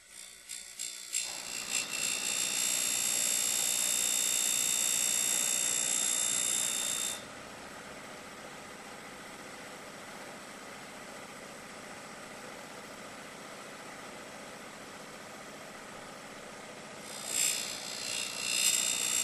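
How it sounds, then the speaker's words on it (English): An E-90 end mill sharpener grinds the secondary clearance angle behind a cutting edge, giving a steady high whine that cuts off after several seconds. A quieter motor hum continues, then the grinding briefly returns near the end. "We reposition the stylus and sharpen the secondary clearance angle behind the cutting edge"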